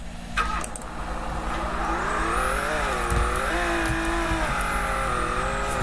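A car driving in a mountain race in a video game, its engine droning steadily and rising and falling in pitch as it shifts and accelerates, with faint tire noise, no talk.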